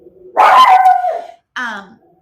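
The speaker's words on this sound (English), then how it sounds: "my dog is barking because she sees somebody walking past" A small dog barks at someone walking past, one loud drawn-out bark followed by a shorter yelp, close by in a quiet indoor room with no talking.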